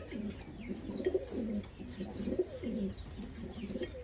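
Pigeons in an Omani loft, including an old Kadim pair, coo in repeated low throaty phrases at a steady rhythm, fairly near, with faint background noise.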